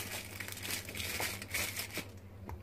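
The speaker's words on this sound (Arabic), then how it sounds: "اجيب بقى كيس من اكياس التلاجة ده اروح حاطاه كده" A plastic fridge bag crinkling as it is wrapped over a jar of homemade pickles: soft, continuous rustling and crackling close by, fairly quiet, with no talking.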